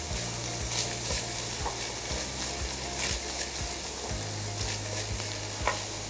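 Minced meat and onion frying in a pan, a continuous sizzle under repeated rhythmic stirring and scraping strokes, close and steady throughout.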